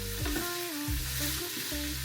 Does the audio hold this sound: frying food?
yes